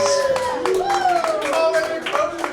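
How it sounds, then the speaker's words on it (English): Comedy club audience claps for comedian Tommy Lopez at a Richmond, Virginia show, brisk hand claps running steadily under loud voices and cheering that carry through the whole stretch. "Give him another big round of applause."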